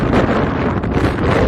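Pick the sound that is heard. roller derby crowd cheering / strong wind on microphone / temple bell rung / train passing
strong wind on microphone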